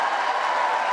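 Broad, steady roar of a Wimbledon tennis crowd cheering and applauding to lift Jabeur, a dense wash of voices and clapping filling the whole moment.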